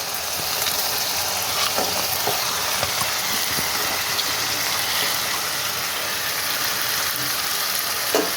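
Pieces of fried chicken sizzle in hot oil in a pan for a biryani, a dense and continuous frying hiss with occasional faint clinks, close by and without speech.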